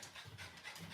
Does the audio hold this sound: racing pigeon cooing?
no